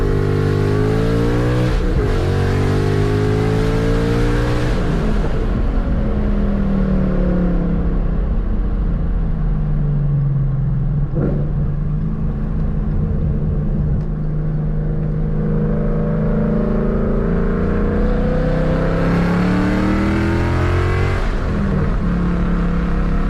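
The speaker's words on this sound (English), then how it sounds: "I say end it with a nice little pull with the windows down." A 2016 Ford Mustang GT accelerates hard with the windows down, its engine note climbing through several gears in loud, close, sustained pulls with shifts between them.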